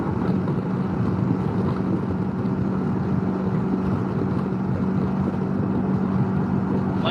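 From the rider's seat, a Can-Am Ryker three-wheeled motorcycle cruising on a Texas highway holds a steady, loud engine drone mixed with wind rush, with no breaks and no voices.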